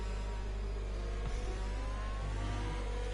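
A race car engine in a racing video game, heading out of the pit lane at Britain Short, gives a steady mid-pitched drone with a slight rise in revs, continuous and close throughout.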